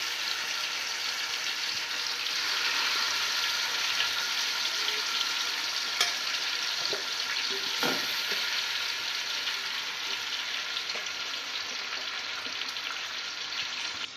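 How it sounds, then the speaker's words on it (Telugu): Marinated chicken for a home-style chicken dum biryani sizzles and fries steadily in a hot pan as it is spread out, a continuous close hiss with a few brief clatters of stirring. "ముందుగా మ్యాగ్నేట్ చేసి పెట్టుకున్న చికెన్ను ఇందులోకి మొత్తంగా వేసుకొని స్ప్రెడ్ చేసుకోవాలి"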